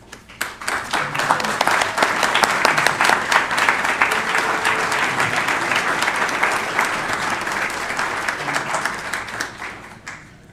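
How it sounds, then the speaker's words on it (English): An audience gives a sustained round of applause for award finalists at an evening recognition event, dense clapping swelling quickly and holding steady at full strength for about ten seconds. "If they would please stand so that we can recognize you with a round of applause."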